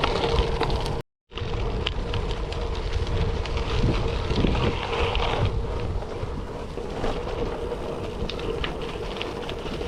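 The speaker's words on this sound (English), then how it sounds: "It's a bit windy" Wind buffets the microphone during a bike ride near Bromsgrove in a constant loud rumble and hiss, broken by a brief dropout near the start, with no voices.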